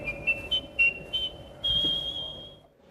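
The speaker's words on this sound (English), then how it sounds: "Time to get him whistling a different tune." Someone whistles a short tune nearby: several quick chirpy notes, then one long sustained note that fades out.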